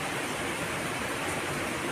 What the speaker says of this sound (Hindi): हमारे घर से नीचे नाला चल रहा है, भारी बारिश है बहुत ज़्यादा